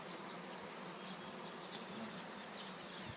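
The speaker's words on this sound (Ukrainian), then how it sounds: "Раз от пів ящика бджоли я маю." Honey bees shaken into a beekeeper's box make a faint, steady buzzing swarm hum that continues unbroken, with no voices.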